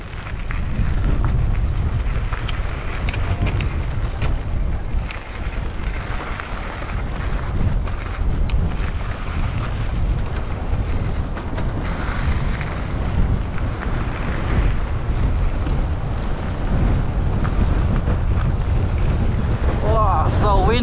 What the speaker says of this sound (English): Windy.